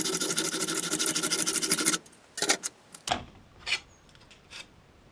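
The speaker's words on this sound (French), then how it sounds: "Il reste possible d'utiliser une scie à bois manuelle pour découper le PMMA." A manual wood saw cuts through PMMA acrylic sheet with a steady, dense rasping stroke pattern for about two seconds, then breaks into a few separate short scrapes and knocks, close and fairly quiet.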